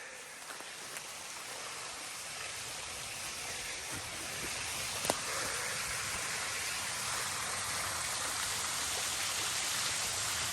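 Rainbow Falls at Red River Gorge in Kentucky pours in a steady, broadband rush of falling water, mixed with patter from a rainy day, constant and enveloping throughout, with one brief knock partway through.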